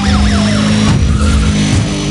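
Race car engine whine and tire squeal as a police car rams another vehicle in Need for Speed World, with a rising and falling engine tone and a scraping impact.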